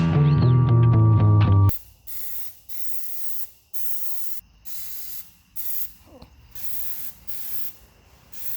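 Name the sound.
spraying Plastidip aerosol coating onto a rod holder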